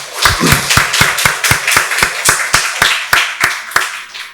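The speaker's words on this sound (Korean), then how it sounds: "박수로 하나님께 영광 돌리겠습니다." Church congregation at a Sunday worship service clapping in unison, a loud, regular beat of about a dozen strong claps, close and with little talk.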